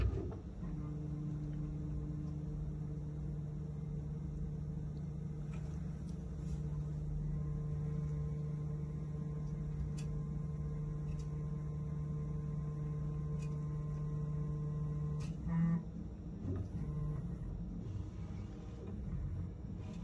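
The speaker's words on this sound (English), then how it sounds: "now the printer is going to go through its initialization routine" A 3D printer with its nozzle heated runs its initialization routine and bed-height probing, giving a faint, steady motor hum with tonal whine that holds for most of the stretch, with a few brief shifts near the end and no talk.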